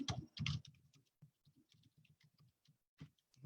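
A computer keyboard gives faint, scattered soft clicks at an irregular typing pace, with a few louder thumps at the beginning and end.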